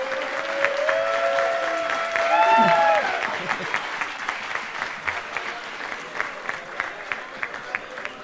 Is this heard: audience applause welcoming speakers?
yes